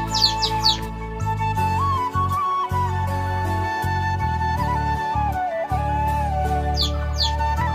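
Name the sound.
pigeons in a coop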